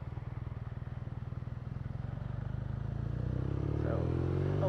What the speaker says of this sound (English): it's a flat 2, a boxer engine